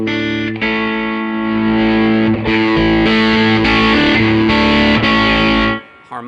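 Electric guitar played through a JMI Tone Bender fuzz pedal, with the amp driven just slightly at near unity gain, rings out in sustained, harmonically rich fuzzy chords that are strummed several times and then cut off, with no voice present.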